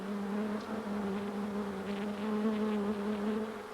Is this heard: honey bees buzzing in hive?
yes